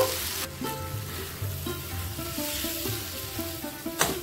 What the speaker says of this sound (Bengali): এটাকে আরো আমি বেশ কিছুক্ষণ কষাবো। একটু নাড়িয়ে নিয়ে আবার আমি ঢেকে রেখে দেবো